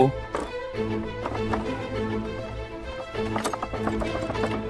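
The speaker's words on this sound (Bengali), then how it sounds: "রাকেশের গরুর গাড়িটা ছুটতে ছুটতে এসে পড়লো একটা জঙ্গলের ভেতরে" Bullock cart drawn by cows running along, with hooves clip-clopping in a quick steady rhythm over background music in a cartoon story.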